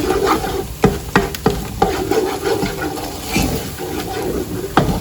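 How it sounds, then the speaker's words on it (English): Eggs scramble in a pan over a high gas flame with a bright sizzle. Repeated sharp scrapes and knocks from a utensil stirring them around come at an uneven rhythm, close up and loud, with no voices. "Just cook the egg all the way through. Make it nice and scrambled."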